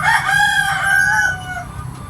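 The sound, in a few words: chicken clucking and crowing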